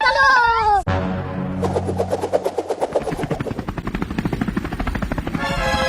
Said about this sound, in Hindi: साहब इसका हेलीकॉप्टर आगे ही खड़ा हुआ है